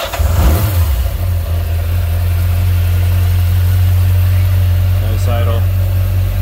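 A 1986 Yamaha Radian motorcycle engine cranks and catches, then settles into a loud, steady, close idle that holds to the end, with a brief blip partway through.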